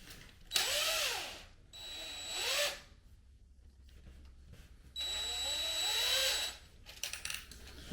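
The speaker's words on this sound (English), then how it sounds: "I'm going to drill through the yoke, but I'm not going to drill through what's underneath." Two bursts of a power drill boring into oak stair nosing, the motor whining up and down in pitch, separated by a short quiet pause, close and clear.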